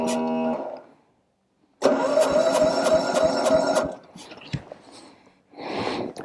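A 1950 Cushman Turtleback scooter's small single-cylinder engine kicks over, chugging in a quick even rhythm for about two seconds before dying, close and loud, followed by a faint clunk and a brief hiss.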